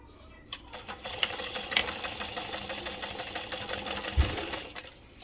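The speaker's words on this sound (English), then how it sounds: "I'm going to turn to a 4 stitch length and use a 3/8 seam." A sewing machine runs steadily, stitching a travel bag seam at a 4 stitch length with a 3/8 inch seam allowance, its motor whirring with fast rhythmic needle clatter at close range for several seconds.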